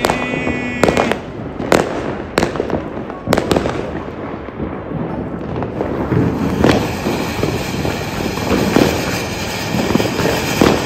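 Diwali firecrackers going off outdoors: several sharp loud bangs in the first few seconds, then continuous crackling and fizzing bursts that keep going to the end, with no talk.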